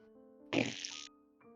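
A voice makes a short, buzzy mouth-fart imitation lasting about half a second, close to the microphone, over a faint background hum.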